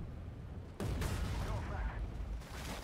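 Heavy tank cannon fire in the Armored Warfare game: a sharp, loud boom sets off a dense, rumbling blast that stays thick and sustained, with more battle noise churning underneath and a voice faintly present.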